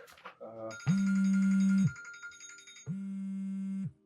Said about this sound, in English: Baby, your phone is ringing.